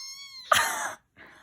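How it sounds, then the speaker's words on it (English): A small kitten gives a short, close meow with a rising harmonic cry, followed by a brief pause and a fainter second squeak; no one speaks over it. "Oh, look at that little meow."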